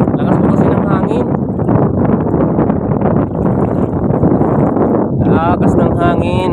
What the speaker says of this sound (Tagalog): Lakas po kasi ng hangin.